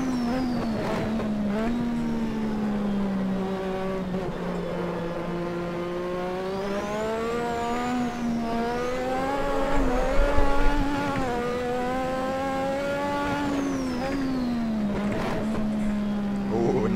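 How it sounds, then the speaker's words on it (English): A Lotus 98T turbo Formula One engine races around Spa Francorchamps in the Assetto Corsa game, a loud droning howl rising and falling in pitch as it revs through gears, with a brief lower burst midway. "Engine starts to get aggressive now."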